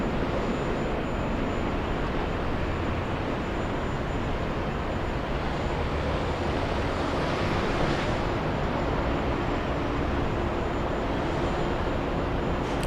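An airliner takes off at Los Angeles airport with a broad, steady roar that swells slightly midway. It sounds fairly distant, with no voices over it.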